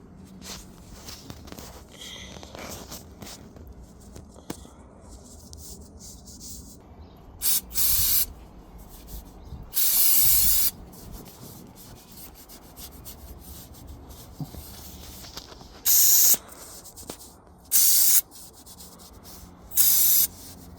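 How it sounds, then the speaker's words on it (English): Several short hissing blasts of brake cleaner spray hit the underside of a car engine during an oil change, separated by quieter handling and rubbing noises, close by with no voices. "just like to give the bottom of the engine a little spray with some brake clean"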